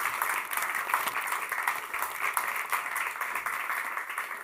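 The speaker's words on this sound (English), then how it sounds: "And please applaud, a round of applause." Applause from a small audience at an artist talk, steady dense clapping that holds at a moderate level throughout.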